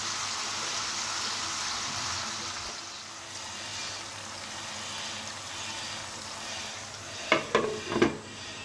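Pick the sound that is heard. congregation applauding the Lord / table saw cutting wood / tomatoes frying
tomatoes frying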